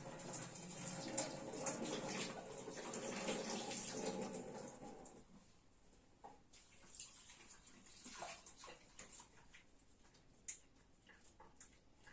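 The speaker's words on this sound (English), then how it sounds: "I'm just going to rinse off the onions with some cold water. I'm just going to run some cold water" Cold tap water runs over onions in a kitchen sink, a steady splashing rush for about five seconds before it cuts off, leaving quiet room tone with small clicks and knocks.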